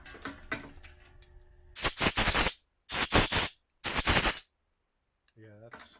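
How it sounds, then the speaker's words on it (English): Compressed air blasts out of brass cartridge cases in three loud, hissing bursts about a second apart, with quieter clicks and handling noise before and a short voice at the end. "let me shoot this with air"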